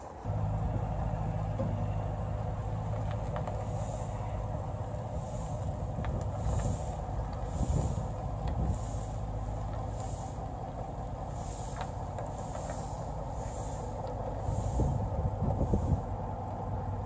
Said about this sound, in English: Let's get the truck backed up to it, hook this up